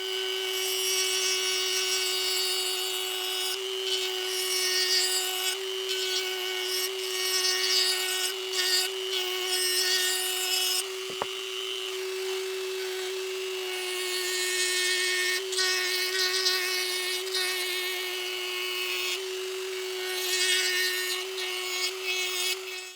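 A Dremel rotary tool with a cylindrical burr grinds steadily into scrap wood while a feather is carved, giving a close, continuous high whine with scratchy rasping as the bit bites and is briefly lifted near the middle.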